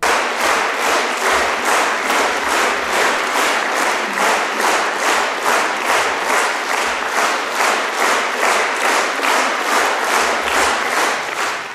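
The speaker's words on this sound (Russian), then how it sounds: "Аплодисменты, которым, кажется, просто нет конца" A concert audience gives long, sustained applause for conductor and violist Yuri Bashmet, People's Artist of the USSR. The clapping is loud and dense throughout and settles into a steady, rhythmic unison beat.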